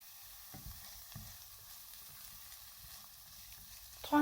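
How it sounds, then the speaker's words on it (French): Onions sizzling as they cook in a pan for a creamy salmon sauce, a steady soft frying hiss with a few faint clicks and stirring bumps, fairly quiet and with no voices. "rajouter aux oignons qui sont déjà en train de cuire"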